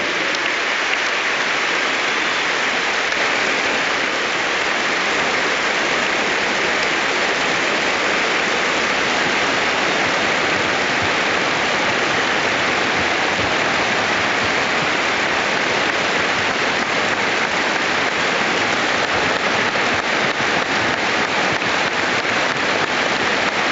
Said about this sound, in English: We have a minute's applause here at Hampden Park to remember him.